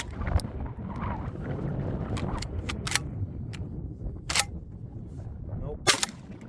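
A Citadel Boss Hog shotgun fires high brass shells outdoors in an ice test, giving several sharp, separated reports over steady wind noise.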